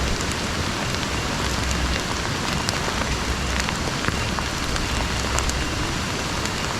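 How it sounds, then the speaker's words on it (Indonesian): Steady rain falls at a campsite in the Bedengan area of Malang, a dense, even hiss of drops pattering on surfaces that holds constant and close throughout with no voices. "Kita hujan-hujanan sampai lokasi."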